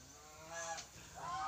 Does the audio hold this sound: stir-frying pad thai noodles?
no